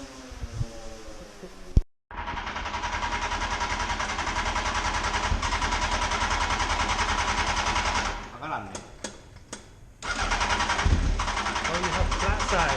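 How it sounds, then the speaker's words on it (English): A two-stroke motorcycle engine revs hard and loud inside a closed warehouse, a dense rapid buzzing drone that cuts out briefly, dips and sputters, then climbs back to full revs. "Just casually revving a two-stroke in a closed warehouse."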